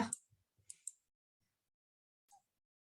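A computer mouse clicks a few times, sharp and dry, in an irregular sparse pattern, close and fairly quiet, with long silent gaps and no talk.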